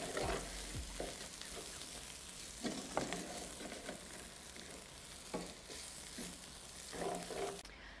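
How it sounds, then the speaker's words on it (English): Rice for paella sizzles steadily in a hot pan while a utensil scrapes and stirs it in repeated strokes, lifting solids from the bottom, close up with no talking. "Stirring it around just to lift all those solids from the bottom."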